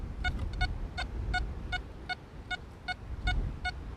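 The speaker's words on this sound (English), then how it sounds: "could I put the speaker on my detector so you could hear some of the tones?" XP ORX metal detector tones played through its speaker in a field: about ten short, bright beeps in an uneven rhythm, sounding clearly over a steady low rumble of wind or handling noise.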